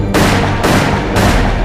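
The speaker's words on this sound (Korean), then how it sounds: "주저없이 방화쇠를 당겼다." Three loud, booming pistol shots fired in quick succession, each a broad sharp blast with a lingering rumbling tail, close and dominant with no voices, at a crowded railway station platform in Harbin.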